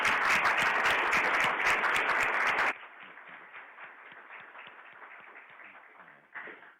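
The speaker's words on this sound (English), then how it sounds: "I think, that deserves another, round of applause" A seated audience applauds at a department state-of-the-year address, a dense burst of clapping for about three seconds that drops sharply to scattered, thinning claps, with a brief swell near the end.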